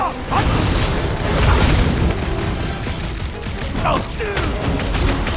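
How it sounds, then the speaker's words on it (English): Explosions in Marvel's Guardians of the Galaxy: loud, continuous booming and crashing bursts of battle noise, dense and near, with brief voice-like shouts mixed in. "Incoming explosives!"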